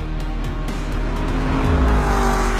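A 2017 Grand Sport sports car drives hard on a race track, its engine a loud, steady drone with shifting pitch and faint tire noise throughout, with no voices.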